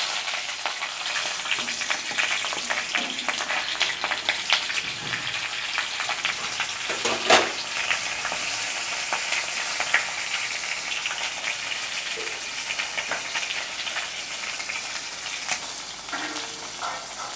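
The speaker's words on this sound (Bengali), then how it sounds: "মাছের মাথাটা ভাজা হয়ে গেছে" A silver carp fish head fries in hot oil in a pan, giving a soft, continuous sizzle with scattered crackles and pops. It stays moderately quiet and steady, with no voices.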